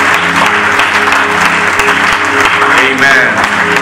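A church congregation claps in a dense, loud, continuous burst of applause during a service of songs, with voices mixed in.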